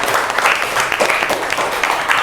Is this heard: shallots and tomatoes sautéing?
no